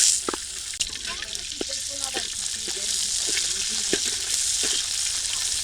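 Chopped onion and green chili frying in oil for a bitter gourd and potato dish, a steady bright sizzle with spatula clinks and a person talking over it.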